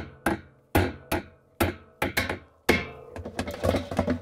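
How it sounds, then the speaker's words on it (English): A chisel driven by a mallet cuts out the central piece of an LG/Kenmore washer pulsator assembly, with sharp, close hammer strikes about every half second that become a rapid cluster of knocks near the end. "So I'm going to use a chisel and this nice mallet, and I'm going to try to cut out that"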